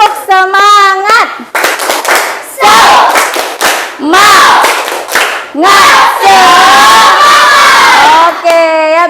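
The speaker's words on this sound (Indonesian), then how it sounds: "Kita tepuk semangat dulu, mau? Oke, yuk tepuk semangat." An Indonesian classroom of children claps and chants a spirit clap together in a loud, rhythmic burst, voices rising and falling with sharp hand claps between phrases.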